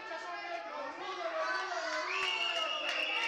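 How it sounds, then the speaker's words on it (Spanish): A crowd at a lucha libre wrestling event shouts a sustained chant of support, many voices blending into one loud, continuous roar with no break. "el grito de apoyo"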